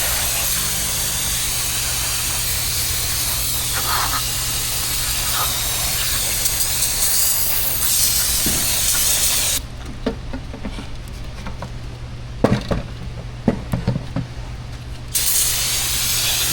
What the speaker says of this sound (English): Hose it down.